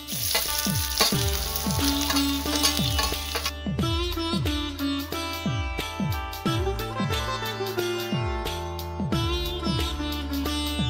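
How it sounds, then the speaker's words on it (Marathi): Ginger and garlic fry in a wok, giving a close, crackling sizzle punctuated by frequent clinks and scrapes of stirring, with no voices. "आता कढईसून कांदो काढूया आणि आला लसूण भाजून घेऊया"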